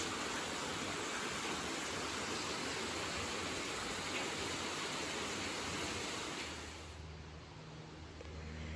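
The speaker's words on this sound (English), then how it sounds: "And you can see some of the water coming in from the river." River water flowing into an old mill wheel channel at Stanley Mills, a broad steady rushing roar, constant and fairly close, easing slightly near the end.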